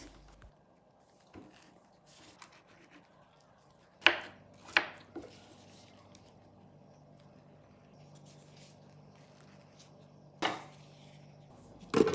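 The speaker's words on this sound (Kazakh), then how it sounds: "Аталған көкөністерді жуып, аршып, тазартып, турап аламыз." A handful of sharp knife chops land on a cutting board at irregular intervals, close by, with quiet pauses between them in a still room.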